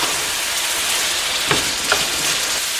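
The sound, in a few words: honey garlic steak bites sizzling in skillet sauce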